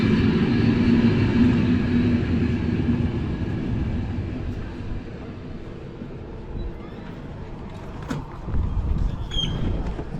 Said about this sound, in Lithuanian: Atvažiavo traukinys